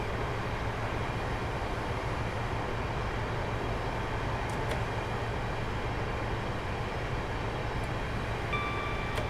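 An HST train coasts at about 60 mph on the Swansea to Bristol Parkway route in Train Simulator 2017, a steady, even rumble and rushing hiss that holds without change throughout.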